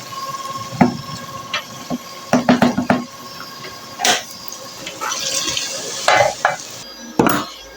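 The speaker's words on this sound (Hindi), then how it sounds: "अभी हम इसको तड़का लगा रहे हैं।" Dal being tempered with garlic and red chili powder gives off sizzling bursts, with repeated scraping and stirring sounds from a spoon against the pot at close range.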